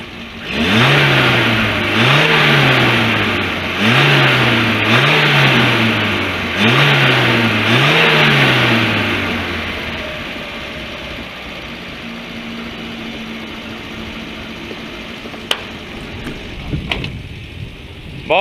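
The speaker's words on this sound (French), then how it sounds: "Maintenant je vais te faire écouter le bruit d'échappement" A Renault Trafic van's exhaust, heard close at about 1.2 metres, revved repeatedly in five rising-and-falling surges, then settling to a steady idle with a few clicks near the end.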